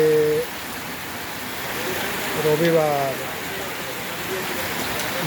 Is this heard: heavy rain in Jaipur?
yes